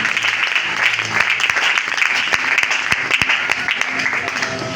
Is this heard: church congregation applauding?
yes